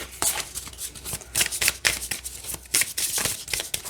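An oracle card deck being shuffled by hand, quick bursts of riffling and sliding card noise repeating in short uneven strokes, close and fairly clear.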